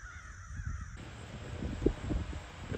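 A large group of crows cawing outdoors: repeated harsh caws from many birds overlap at a moderate distance over a rustling background, with no one talking.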